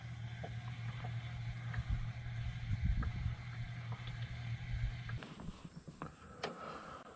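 A low, steady electric trolling motor hum on its lowest speed drones for several seconds from a small creek fishing boat, then cuts out, leaving soft water sounds and a few light knocks.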